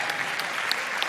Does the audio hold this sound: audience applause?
yes